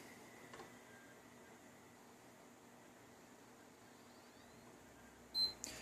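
A PS4 console beeps as it boots into safe mode: one short, high tone near the end over a faint, steady background hum.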